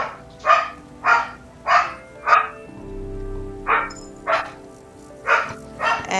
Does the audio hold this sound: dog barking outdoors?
yes